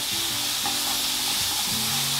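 Onions sizzling and frying in a pan for miso ramen, a loud, steady hiss with scattered crackles, heard up close with stirring scrapes throughout and no voices.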